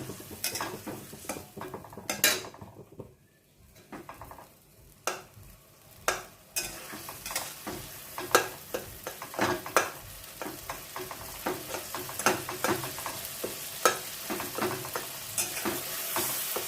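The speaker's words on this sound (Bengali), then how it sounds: "মশলাটা বেশ ভাজা ভাজা হয়ে গেছে, ভালো গন্ধ বেরোচ্ছে।" Spice masala for pabda fish curry sizzles in hot oil while a spoon stirs and scrapes the pan, giving repeated sharp metallic clinks over a low, continuous frying hiss.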